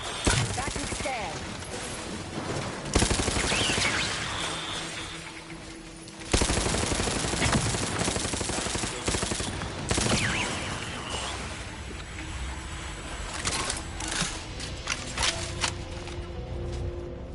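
Weapon fire in the video game The Outer Worlds 2, bursts of rapid shots and heavy blasts with sharp onsets, loud and close, mixed with game effects and a synthetic voice.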